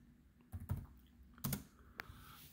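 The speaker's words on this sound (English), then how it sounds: "You just type in what you want, of course." Typing on a computer keyboard, a few quiet scattered keystrokes and clacks in a sparse, irregular rhythm, close and soft against a low background hum.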